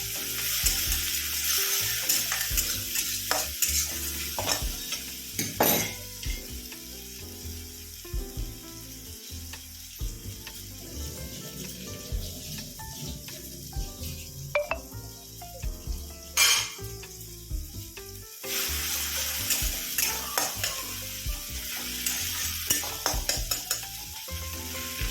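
Onions frying in oil over a medium flame, a continuous crackling sizzle with intermittent clatter of stirring and brief louder bursts, close up and with no speech.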